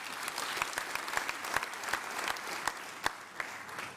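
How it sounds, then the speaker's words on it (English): Members at the Eastern Cape State of the Province Address give a moderate, scattered round of applause, with distinct individual claps and occasional sharp ones standing out from a softer wash. "round of applause."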